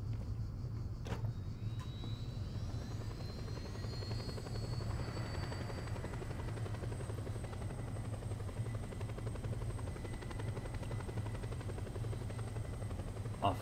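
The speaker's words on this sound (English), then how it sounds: "there's a helicopter there, so I can just use that." A helicopter in the video game Just Cause whirs steadily and continuously at close range, with a constant low rotor drone and a high whine, and no talking over it.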